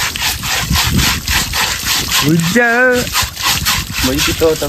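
A person is scrubbed with soap while bathing, and rhythmic rubbing strokes repeat steadily up close. Voices talk loudly over the scrubbing throughout.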